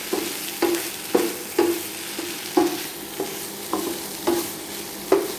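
A salted pizza topping mixture is stirred in a hot pan, with a sizzling bed of sound under regular, close spatula scrapes about every half second and no voices.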